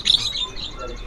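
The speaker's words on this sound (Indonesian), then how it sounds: "Jalak kebo 200 ekor." Jalak kebo mynas at a bird market give a few bright, high chirps close by, with a thin, steady background hum.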